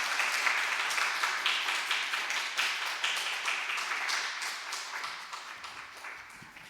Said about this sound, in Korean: 우리 청년부 큰 박수로, 환영의 박수로 환영하는 시간 갖도록 하겠습니다.